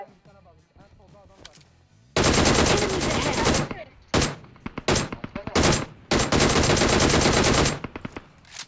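Loud automatic gunfire from PUBG Mobile erupts in long sustained bursts and shorter volleys after a brief quieter stretch, close and dominant, with a few faint voices underneath.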